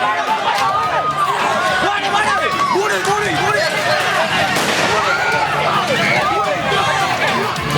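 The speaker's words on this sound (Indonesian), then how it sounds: "Polisi pun terpaksa melepaskan tembakan peringatan ke udara untuk menghalau massa" Police warning shots fired into the air in Makassar, South Sulawesi, while a crowd of hundreds chases a patrol car; sharp reports crack over continuous loud crowd shouting and commotion.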